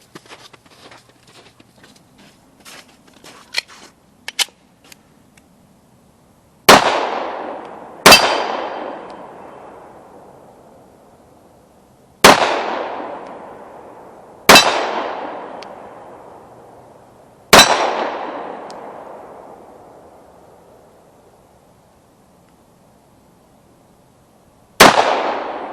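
Handgun shots ring off a swinging steel target outdoors, six sharp metallic clangs at irregular intervals, each ringing out and decaying, after a few faint scattered knocks and taps at the start.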